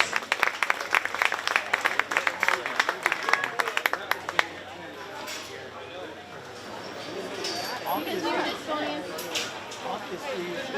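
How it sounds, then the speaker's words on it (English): A county fair swine show crowd gives a burst of scattered, sharp clapping for the champions that fades after about four seconds into murmuring chatter and nearby voices. "Let's give all those, and especially Olivia and Cheyenne, a nice big round of applause."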